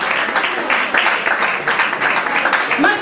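Audience applause fills a café-literary hall during a singing-contest presentation evening, dense steady clapping from a seated crowd lasting throughout, close and fairly loud.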